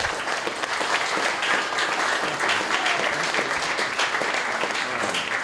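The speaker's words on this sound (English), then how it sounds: "Can we get a round of applause for our sound and video people?" An audience at a poetry reading claps steadily for several seconds, a full, even round of applause heard up close with no talking over it.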